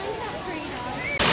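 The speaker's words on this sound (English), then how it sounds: "This beautiful waterfall is supposed to be home to 3 different types of lemurs" Water spills down a waterfall in a zoo's lemur exhibit, a steady rushing hiss beneath a voice, swelling into a louder, closer roar in the final moment.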